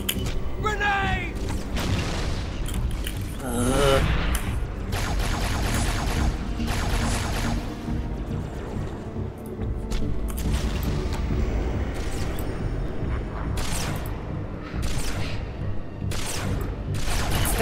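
A Halo 2 firefight: a grenade goes off with a heavy boom, and bursts of gunfire and thumping impacts follow, loud and busy, with people talking over parts of the action.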